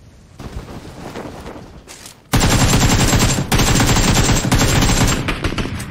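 Loud, dense automatic gunfire in a VR battle-royale shooter, quieter shots at first, then sustained rapid bursts that dominate for several seconds.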